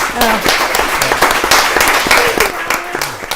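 Applause at a town selectboard meeting in Northfield, a short burst of clapping from a small room of attendees, steady and fairly close, with voices mixed in.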